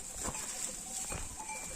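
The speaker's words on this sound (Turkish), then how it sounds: "Koyunlarımız da şöyle meşelerin içinden içinden getirdik." A flock of sheep is driven through oak woods, with bleats and jangling animal bells close by over a soft rustling background, and no voices.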